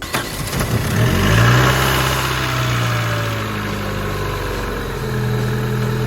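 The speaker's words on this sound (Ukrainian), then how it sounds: "Ланос після ДТП був в технічно непоганому стані. Двигун працював рівно." A Daewoo Lanos that has been in a crash idles steadily at close range, giving a loud, even engine hum with a low, constant throb and no voices.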